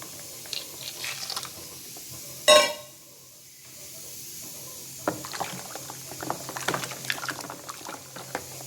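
Water is poured and swirled into a red rice washing water mixture for an organic micronutrient fertiliser, with a sharp splash followed by quiet trickling and small sloshing sounds in a hushed setting.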